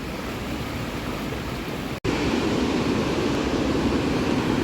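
The fast-flowing, milky Dudh Ganga river in Pokhara, Nepal rushes in a steady loud broadband roar, with a brief dropout partway through.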